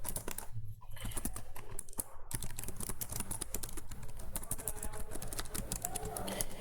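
Rapid clicking keystrokes on a computer keyboard while code is typed, bursts of close, crisp taps with brief pauses, continuing steadily.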